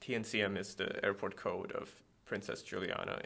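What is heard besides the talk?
No distinct noise like a dog, phone or traffic.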